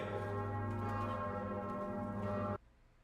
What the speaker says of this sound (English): Sing, my bells, sing till you are all quite out of breath.